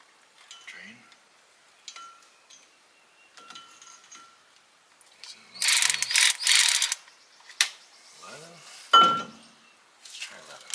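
Wrench ratcheting on a brake line fitting of a 1995 Chevrolet S10 during a brake caliper job, a dense close burst of metallic clicking midway between scattered clinks and handling noises.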